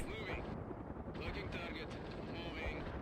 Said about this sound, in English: I don't want to lose this veteran helicopter